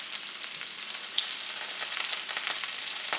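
Homemade meatballs sizzle steadily in a pan, a dense close crackle with a few soft clicks and scrapes as they are turned over.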